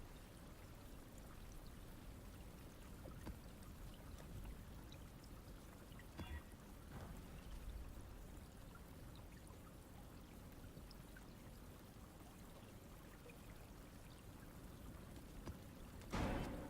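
A water spring pours steadily in Path of Exile, a soft continuous trickling stream held at low level throughout, with a brief brighter splash near the end and no speech.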